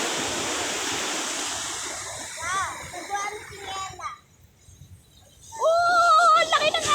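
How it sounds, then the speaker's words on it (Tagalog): Large ocean waves crash onto a beach shore, a broad rushing roar that swells and then recedes, with children's and other voices talking over the surf. "Grabe, ang lalaki ng alon dito"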